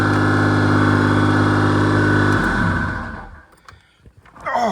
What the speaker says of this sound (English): sounds like a massive exhaust leak, but I think that is because there is a massive exhaust leak.